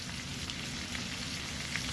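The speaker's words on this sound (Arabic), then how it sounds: "هنزلهم هنا هشوحهم تشويحه كده في السريع" Zucchini pieces sauté in a pan with a steady, close sizzling hiss that carries no voices.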